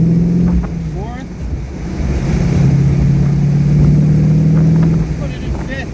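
A Modena California Spyder engine pulls in fourth gear with a loud, steady droning rise under wind buffeting, while a person talks over it.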